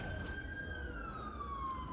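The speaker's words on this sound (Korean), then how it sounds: "사이렌 소리다. 구급차가 왔나봐요." A faint ambulance siren from the Solo Leveling Arise video game wails with a slowly falling tone, steady and distant, heard alone.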